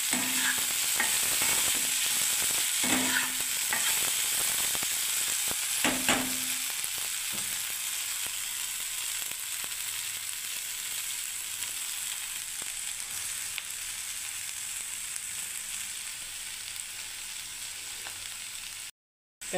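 Okra (bhindi) frying in a pan Hyderabadi style, a continuous bright sizzle with a few spatula scrapes and knocks early on, steady and close, ending in a brief silence.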